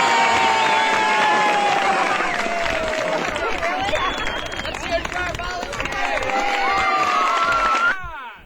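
An audience at an All Hallows Eve theatre night applauds and cheers for volunteers, a dense wash of clapping, whoops and excited voices that holds steady, then cuts off abruptly near the end.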